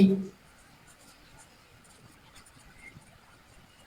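Faint, soft scratching of writing on a board during an English grammar lesson, running quietly after a brief louder knock at the start.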